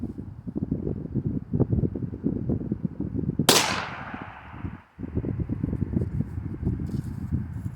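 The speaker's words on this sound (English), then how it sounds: "I'm gonna shoot 3 times out of the Rossi" A Rossi rifle firing 130 grain Remington full metal jacket rounds; one loud, sharp shot cracks out against steady wind buffeting on the microphone, its report trailing off over about a second.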